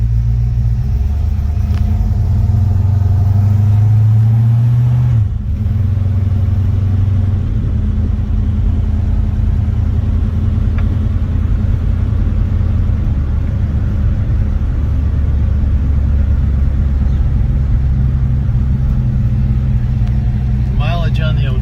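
A 1947 Chevrolet Business Coupe street rod idles steadily and close, its low engine rumble running continuously with a brief change in tone early on.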